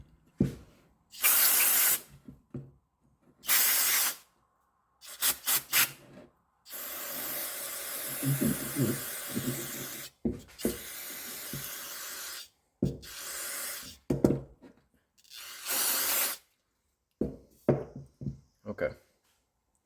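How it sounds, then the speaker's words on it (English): Repeated bursts of carburetor cleaner spray hiss from an aerosol can onto a small-engine carburetor, several short blasts and one long one, separated by quiet pauses and brief talking. "we're going to spray it off real quick with some regular carb cleaner"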